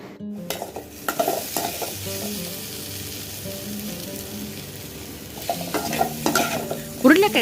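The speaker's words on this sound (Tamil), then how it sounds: "உருளைக்கிழங்கு இது போல் வறுத்தா ரொம்ப நல்லா இருக்குங்க" Potatoes frying in a pan, a continuous close sizzle with repeated scraping and stirring strokes of a spatula, growing busier with clattering utensil knocks toward the end.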